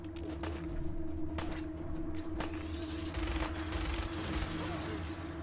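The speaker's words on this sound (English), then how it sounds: "the minigun is actually dealing pretty nifty damage, so let's clear some raiders" A minigun fires in Fallout 4, against raiders, a fairly quiet, sustained rattling stream of shots in repeated bursts over a steady low mechanical hum.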